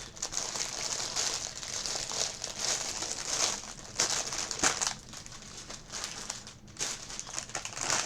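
Old-style plastic Lego parts bags from a Razor Crest set crinkle and rustle steadily for about eight seconds, close and fairly loud, with sharper crackles mixed in and no voices.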